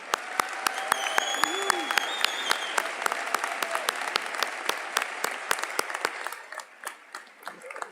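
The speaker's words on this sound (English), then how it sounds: "let's give them all a round of applause" Applause at a 2022 medical school commencement ceremony for senators and a representative, steady crowd clapping with a few distinct sharp claps up front and whistles over it, tapering off toward the end.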